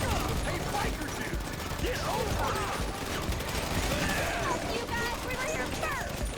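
Dense, continuous gunfire in a GTA 5 Online mission: rapid shots layered over a busy, loud game soundscape with faint voices mixed in throughout.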